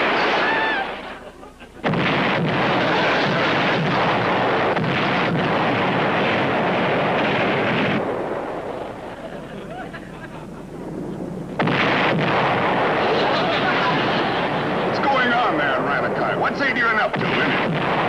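Ship's cannon fire in a colorized 1960s naval sitcom episode, loud booming blasts with rumbling aftermath and sound effects layered over dialogue and background music.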